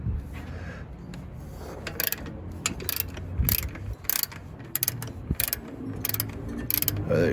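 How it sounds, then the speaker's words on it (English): A ratchet clicks in short irregular bursts while loosening an idler pulley on a car engine during exhaust manifold repair work, close and clear amid light mechanical rubbing and clanks. "So I'm gonna go ahead and loosen up this pulley right here."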